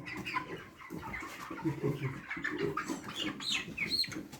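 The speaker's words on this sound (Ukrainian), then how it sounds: "Тут у нас одна курочка і два півника." Broiler hens and roosters, kept indoors over winter, cluck and murmur continuously at close range in a busy, overlapping chatter with occasional sharper calls.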